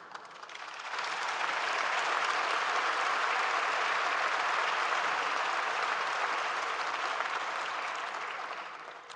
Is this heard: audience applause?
yes